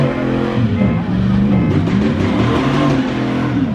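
Truck engine revving hard at a car meet that has turned into a sideshow, a close, loud, throaty roar that climbs and dips in pitch through repeated revs, with crowd noise and voices underneath.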